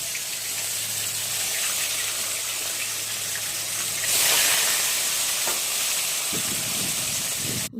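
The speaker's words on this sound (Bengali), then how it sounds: "এখন গ্যাসটা অন করে কড়াই বসিয়ে গরম তেলে মাছগুলো ভেজে নেব।" Fish rubbed with salt and turmeric fry in hot oil in a kadai, a steady close sizzle with a faint low hum, swelling into a louder hissing burst midway, then settling with light knocks and scrapes.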